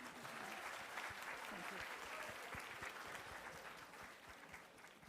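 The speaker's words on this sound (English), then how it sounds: "A big round of applause for all of you." A seated audience at a business school marketing conclave applauds a panel, a dense, steady wash of many hands clapping that holds evenly throughout at moderate room distance.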